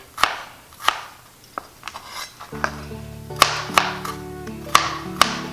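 Coarse chopping of garlic on a board for braised lamb shank, a handful of sharp knife taps at irregular spacing, close and fairly crisp, with quiet kitchen clatter in between and no talk.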